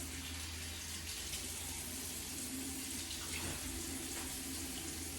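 A bathroom tap runs steadily while a razor blade is rinsed between shaving strokes, a continuous close hiss of flowing water with no talk over it.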